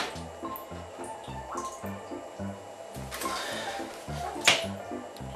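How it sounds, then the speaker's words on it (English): Bubbles rise from the keyboard of a waterproof laptop submerged in a bathtub, giving soft, irregular watery drips and pops over a steady low rhythmic hum, with one sharper bubble burst near the end. "Normally get a few bubbles coming up from the keyboard."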